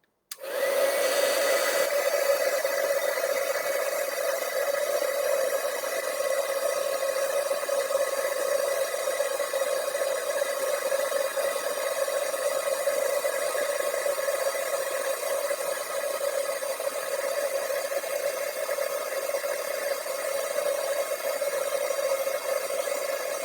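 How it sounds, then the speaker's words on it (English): Heat embossing tool blowing hot air over embossing powder on a handmade card, a steady, close, continuous airy whoosh like a hair dryer that holds evenly for the whole stretch with no talking. "grab the heat tool, and we're going to heat this up."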